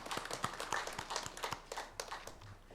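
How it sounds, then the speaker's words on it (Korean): A congregation claps during a Sunday church worship service, producing loose, irregular hand claps at moderate distance that build briefly and then thin out, with no voices. "박수로 하나님께 영광 돌리겠습니다."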